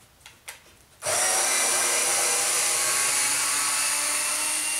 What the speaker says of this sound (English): If I set it to drill,